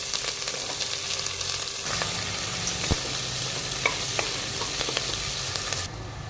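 Onion frying in hot oil for a cracked-wheat pulao, a dense, continuous close sizzle with a few light stirring taps, fading slightly at the end.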